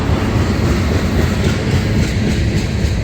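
A CSX freight train rolls past on the old main line in Patapsco Valley, 2-bay hopper cars going by with steady, loud clickety-clack of wheels and a continuous close rumble, no voices.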